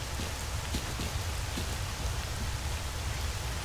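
Steady rain falls in the Cordon area of the video game Stalker Clear Sky, a dense, even hiss of drops with scattered patters throughout, with no talking.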